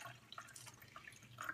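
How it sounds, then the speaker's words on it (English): Water poured from a cup into an essential oil diffuser trickles and drips faintly up close, a soft, uneven splashing that runs the whole time with no voices. "I'm just going to pour my water in like so"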